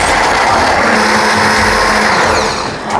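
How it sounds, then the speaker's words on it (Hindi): An electric grinder whirs continuously while grinding onions for beef jalfrezi gravy, a loud steady motor drone that dips briefly near the end. "सबसे पहले प्याज को ग्राइंड करेंगे"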